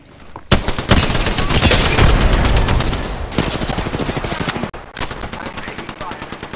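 Gunfire in the video game Apex Legends, with loud, sustained rapid automatic bursts that rattle on for seconds, pause briefly, then resume in further volleys close up.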